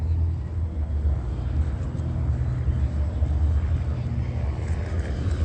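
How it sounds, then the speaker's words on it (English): A helicopter flies over as a steady, loud low rumble, broadband and unchanging throughout, heard outdoors near traffic. "And that's a helicopter flying over while they cross paths."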